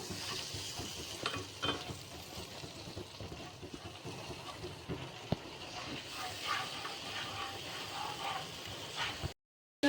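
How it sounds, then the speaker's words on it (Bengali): Pointed gourd with spices and salt being sautéed in a pan, giving a steady close sizzle with occasional clicks and scrapes of a spoon stirring, fairly soft and continuous before cutting off abruptly. "স্বাদ মতো নুন দিয়ে দিচ্ছি এবার এগুলো একটু কষিয়ে নেব"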